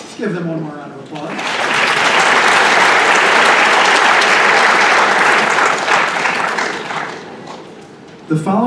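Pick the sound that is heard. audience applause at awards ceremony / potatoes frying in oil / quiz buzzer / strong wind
audience applause at awards ceremony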